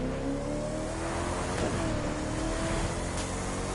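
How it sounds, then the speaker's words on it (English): A car in The Crew 2 racing game accelerating hard, its engine revving loud and steady with a brief pitch drop mid-way as a gear upshift clicks through, no talk. "the upshift, does sound really good on this car"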